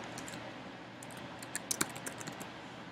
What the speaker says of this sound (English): So type in your email address